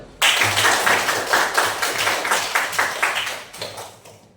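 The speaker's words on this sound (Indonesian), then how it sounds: "Tepuk tangan dulu." A classroom of students claps hands together, a dense burst of quick, close applause that starts abruptly, holds steady for a few seconds and then tapers off, with no talking.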